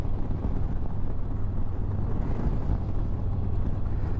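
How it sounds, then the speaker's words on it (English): Steady wind buffets the microphone at a campsite, a continuous low roaring rumble that never lets up, with no voices. "It's getting a little windy now."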